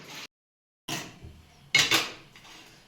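A heavy metal wok (kadhai) is set down with a dull clunk, followed by a sharper clatter of metal on metal and faint scraping.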